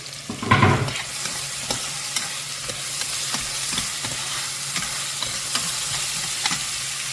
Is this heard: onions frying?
yes